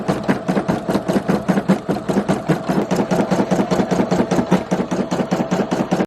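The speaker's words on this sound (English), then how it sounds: "a needle just broke" A sewing machine runs fast with a rapid, even needle stroke that repeats throughout, loud and close, with a needle breaking during the run.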